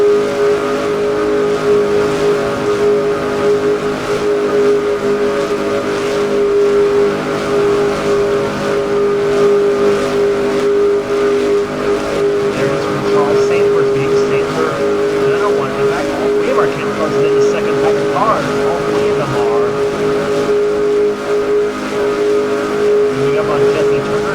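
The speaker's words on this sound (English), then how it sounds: "There's the second pack of cars right there." Race cars in a pack on an oval track during a stock car series race, engines roaring loudly and continuously at high speed across the whole stretch, with a commentator's voice over the top.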